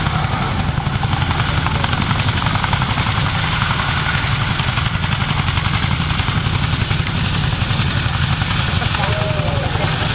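A military transport helicopter with twin 5,000 horsepower Honeywell engines running at an airshow, producing a steady, loud, dense rotor and engine roar with rapid blade chop throughout, no pauses.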